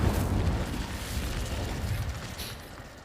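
An Incendio fire spell is cast in Hogwarts Legacy, bursting into a loud, dense, roaring whoosh of flame that holds for about three seconds and slowly fades, with no talking.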